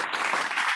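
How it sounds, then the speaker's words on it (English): A brief burst of steady clapping, a short round of applause heard up close with no voices. "Hector, you get a round of applause."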